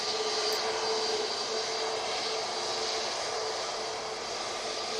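Airbus A330 jet airliner taking off at Manchester Airport, a steady broad engine roar with a high whine, loud and sustained throughout, no voices.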